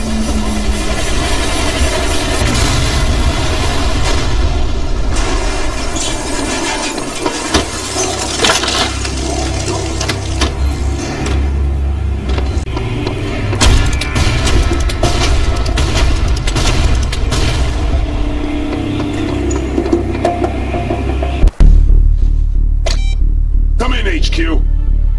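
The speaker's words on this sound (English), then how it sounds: "Rocket launcher accepts no substitutes" Rocket launcher fire in Serious Sam 3 BFE, with heavy booming blasts and debris crackle forming a dense, loud, continuous barrage, ending in a sharp hit followed by quieter tones and talk.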